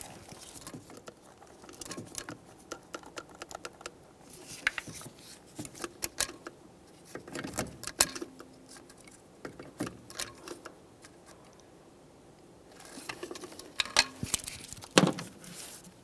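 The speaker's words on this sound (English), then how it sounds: "Let's torque these to that 21 inch-pounds." A torque wrench tightens the distributor cap bolts to 21 inch-pounds on a 1999-2006 Chevrolet Silverado 1500 4.3L V6, giving sparse close metallic clicks and short ratcheting runs separated by quiet gaps.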